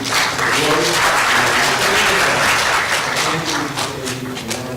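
Applause from an audience at an 8th grade advancement ceremony, a dense, steady wash of many hands clapping that holds loud through the whole stretch and tapers slightly near the end.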